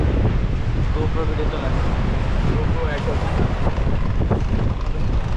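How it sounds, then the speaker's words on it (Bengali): Strong wind roars and buffets the microphone without a break during a motorbike ride along Marine Drive at Cox's Bazar, loud and continuous from start to finish. "পেছন থেকে ঠেলে তো বাতাস, পুরো ঠেলে।"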